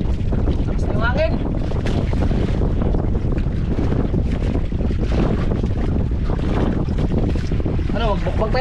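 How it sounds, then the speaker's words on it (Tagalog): Strong wind buffets a fishing boat at sea, roaring steadily and loud throughout with heavy microphone rumble, while voices talk now and then over the gusts. "Tapos yung hangin."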